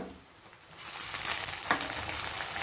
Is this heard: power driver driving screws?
no